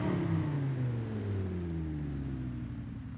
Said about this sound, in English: Especially with that engine sound.